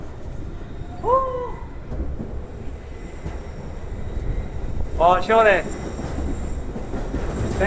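Swiss Alpine train running through a long tunnel, a steady loud rumble of wheels on rail throughout, with brief high squeals from the wheels, and a person speaking briefly over it.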